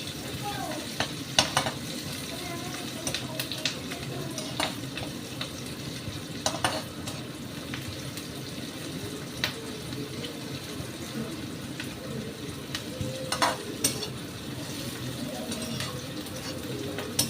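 Onions fry in a pan while being stirred, a steady close sizzle broken by regular sharp scrapes and clinks of the spatula.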